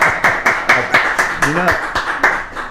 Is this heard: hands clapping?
yes